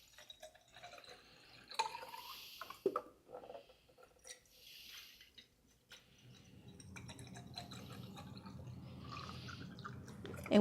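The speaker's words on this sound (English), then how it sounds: "Let's fill up our little vases with some water." Water trickles and drips into small vases, with soft splashes and clinks near the start, then a steady pouring fill building toward the end, quiet and close.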